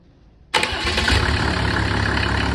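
A Mercedes OM603 3.0 diesel engine cranks and catches abruptly, then settles into a loud, steady rumbling idle close by.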